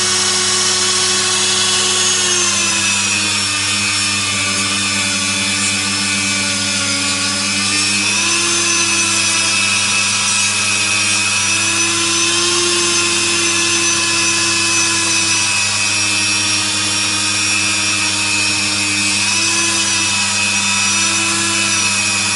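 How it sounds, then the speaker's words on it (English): A Dremel rotary tool works on a 2012 American PRS Custom 24 guitar, producing a loud, continuous high-pitched whine that holds steady close up with slight pitch wobbles and no talk. "I give it a go with the Dremel machine."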